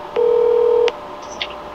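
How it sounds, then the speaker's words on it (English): Telephone dialing with a single long steady tone followed by a short click and faint higher beeps, fairly loud and close, with no talking. "So I'm about to get Bossman on the phone"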